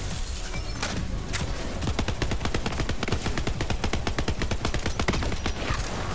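Rapid automatic gunfire in the Borderlands 3 video game, a loud dense stream of shots that runs almost the whole time with steady rhythm, mixed with impacts and other game noise.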